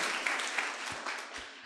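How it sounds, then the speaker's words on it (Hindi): An audience applauds at a motivational talk, a short burst of moderately distant clapping that stays fairly even throughout. "बहुत इसके लिए खूब जोर से तालियां"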